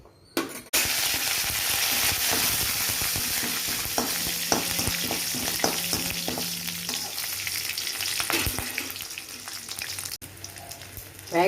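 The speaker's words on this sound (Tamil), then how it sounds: "வேக வச்சிருக்க சவரிசியை இதில் போட்டு வதக்கிக்கலாம்." Soaked sago stirred and sautéed in a hot pan for upma: steady close sizzling and frying hiss with scraping stir strokes throughout, no voices.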